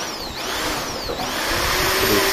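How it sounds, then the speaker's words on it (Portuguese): A Nagasaki electric drill runs without load, giving a steady motorized whir with a high whine that dips and rises in pitch, close and fairly loud. "vamos estar testando aqui para vocês aqui essa furadeira"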